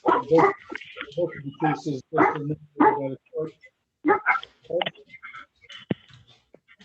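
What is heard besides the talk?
dog barking in the background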